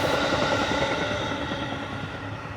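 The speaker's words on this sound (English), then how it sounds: "Train passing." A train passes close by with a steady, loud rumble and rolling rail noise that fades slightly over a few seconds, with no talk over it.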